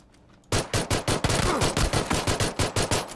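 After a quiet moment, a loud burst of rapid automatic gunfire erupts in the battle royale game PUBG, roughly a dozen evenly spaced shots in quick succession, close and punchy.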